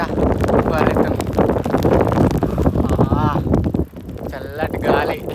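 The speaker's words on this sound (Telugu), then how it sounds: "చల్లటి గాలి" Cold wind buffets the microphone during an outdoor ride, a loud, rough rush that continues throughout while someone talks over it.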